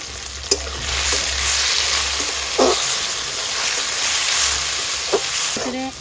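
Potatoes fry in hot oil in a pan while cooking fish in lemon leaves at home, a steady close sizzle broken by a few sharp clicks and stirring knocks.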